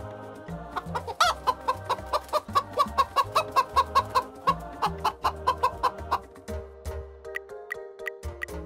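Close, loud hen clucking comes as a steady rhythmic run of quick clucks, rising into a burst of excited cackles before settling into sparser clucks.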